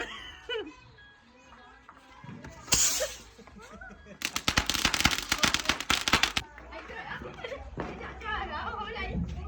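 Diwali firecrackers set off by hand: a sharp bang near 3 seconds, then a dense crackling burst for about two seconds, with people chattering and laughing before and after.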